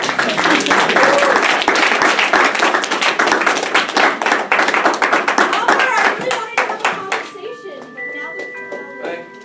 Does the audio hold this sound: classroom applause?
yes